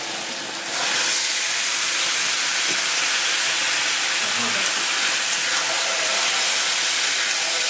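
Chicken meat frying in a pan with onion and garlic for chicken kosha, a steady loud hiss and sizzle that holds throughout after a quieter first second.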